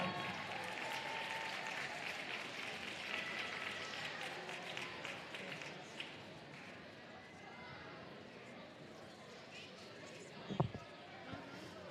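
Spectators applaud an 8th grade girls' basketball team and its coaches in a school gym, a steady, moderate wash of clapping with chatter underneath and a brief thump near the end.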